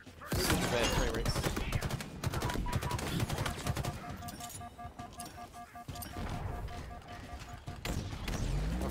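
Enemy fire in the Halo Infinite campaign: a busy stream of rapid shots and impacts, with a steady tonal beeping in the middle and speech under the combat.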